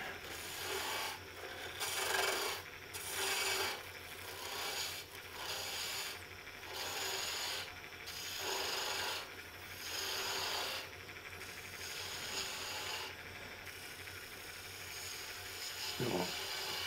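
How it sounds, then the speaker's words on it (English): A spindle gouge cuts into a wooden lidded box spinning on a lathe, giving a steady rasping hiss that swells and fades in repeated passes, fairly quiet and close. "I'll switch to the smaller spindle gouge so we can get right in there"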